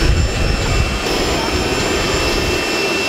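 A jet aircraft engine roars loudly and steadily near the plane before boarding, a broad constant whine with a rumble.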